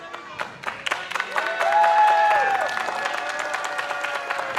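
A wrestling show crowd claps and cheers, with sharp scattered claps, a swell of whistles and shouting building in the middle, then sustained applause.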